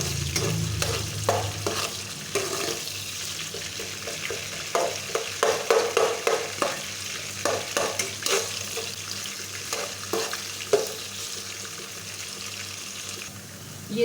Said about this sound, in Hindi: अब हम इसमें प्याज डालेंगे और इनको ब्राउन कर लेंगे।